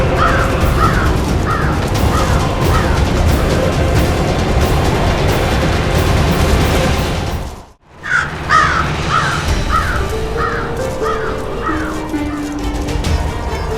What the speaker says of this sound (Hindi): इस कौवे का आना आने वाली अनहोनी का संकेत है।